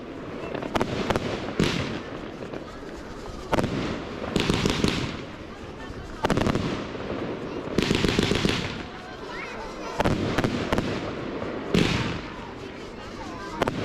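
A fanned firework cake fires at the Liverpool fireworks display 2024, a steady run of loud, crackling outdoor bursts in repeated volleys, with a voice talking over the booming throughout.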